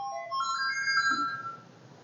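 Commodore 64 SID chip playing a short test melody during a repair, bright electronic tones stepping through a few pitches for about two seconds, moderately loud with no voices.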